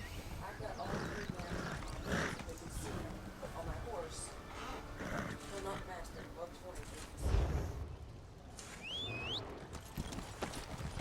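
Steady clip-clop of horse hooves trotting along in a video game set in Tamriel, mixed with game sounds and people talking over it, with a brief whinny-like call near the end.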